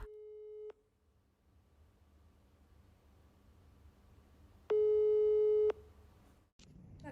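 Telephone tones while placing a call to a friend: a short steady beep, a long quiet stretch of low background hiss, then a louder sustained beep before a click, no talking.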